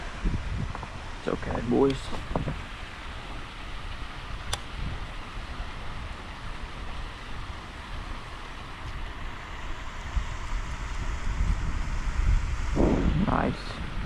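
Wind blowing steadily outdoors beside a fishing pond, a constant low rumbling roar lasting throughout, with a voice talking over it at the start and end.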